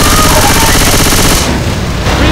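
Loud, rapid automatic gunfire from the Left 4 Dead 2 video game rattles in a continuous burst, dense and close, briefly thinning near the end before resuming.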